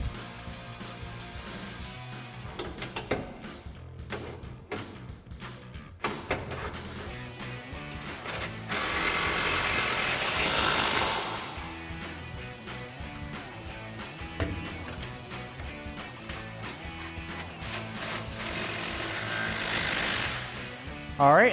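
An impact wrench tightens locking nuts on a Bilstein B8 5100 rear anti-wrap shock on a 2014 RAM 2500, with short rattling bursts followed by two longer, louder hammering runs, and no talking.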